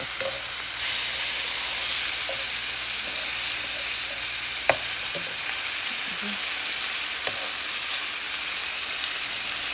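Porgy fish fries in a pan over low heat with a steady, even sizzle, broken by a few soft clicks and taps of a utensil.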